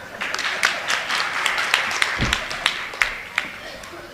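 Audience applause at a political speech, a modest crowd clapping with distinct, fairly close hand claps in an uneven rhythm, with voices murmuring underneath.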